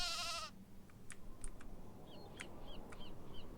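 A sheep bleats loudly at the start in a video game, followed by quieter scattered bird-like calls and clicks against a soft ambient hum.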